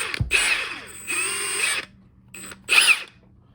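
A Milwaukee M18 Fuel 2967 cordless impact wrench motor whirs in short bursts, three or four quick high-pitched revs with brief pauses between, close and loud.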